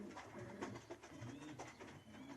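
Racing pigeons in a breeding loft coo softly and repeatedly, several birds at once, with faint rustling and background hum and no voices.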